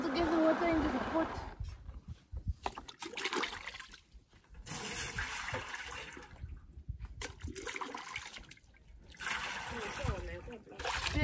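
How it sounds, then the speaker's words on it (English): Water pouring into a pot while brewing traditional Namibian beer in Owamboland, a splashing, gushing flow in several bursts with brief pauses, fairly close and steady, with quieter handling noises between pours. "Firstly, I need to get the water into the pot."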